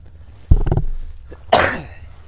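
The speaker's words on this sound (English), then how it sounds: "I moved my mic to cough, and then I did move back." Two loud close coughs from a gamer playing Skyrim at a microphone, a low chesty burst followed a second later by a harsher, brighter one, with quiet room tone between.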